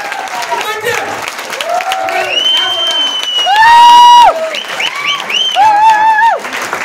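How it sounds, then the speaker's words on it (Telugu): Audience applause at an anniversary award ceremony, steady clapping from a crowd with shouts and cheers riding over it, building louder toward the middle. "అందరికీ గట్టిగా క్లాప్ చేయాలా?"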